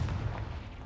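A Confringo fire spell blast from Hogwarts Legacy, a short, heavy low rumbling boom that holds steady with no talk over it.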